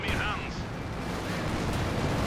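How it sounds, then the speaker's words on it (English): Artillery and machine-gun fire in Company of Heroes 2, a dense continuous wash of distant battle noise with steady rumbling and crackle, under a commentator's talk. "He's got his artillery and his machine guns."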